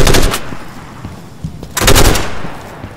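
Two loud bursts of gunfire in a game firefight, a heavy volley at the start and another around the two-second mark, with a sharp single shot between them and rumbling echo trailing off.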